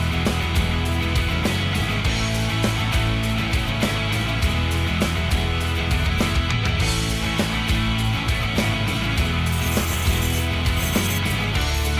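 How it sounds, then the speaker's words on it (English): A reciprocating saw (Sawzall) cutting through wooden stair treads: a loud, continuous, raspy buzzing with a fast rhythmic chatter from the blade stroke, close up and unbroken for the whole stretch. "I got my sawzall and I'm cutting right up"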